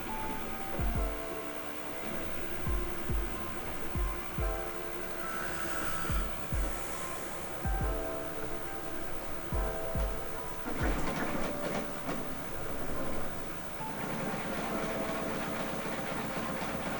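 A Prusa i3 MK3S+ Bear 3D printer with dual Y motors prints a speed Benchy at 10K acceleration, giving whirring stepper motor tones and a series of sharp thumps and knocks, with a louder burst of rattling partway through.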